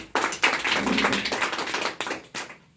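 Audience applause at an indoor training seminar, a dense burst of clapping that swells quickly, holds for about two seconds and then tapers off.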